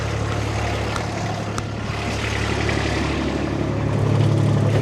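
A Kubota tractor driving past in a field, a steady low engine drone that grows slightly louder toward the end over outdoor background noise.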